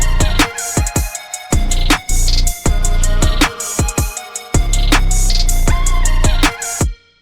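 Hip hop trap beat in a Korean hip hop style, with a synth lead, heavy booming bass hits and added effects, looping in a punchy rhythm with brief drop-outs.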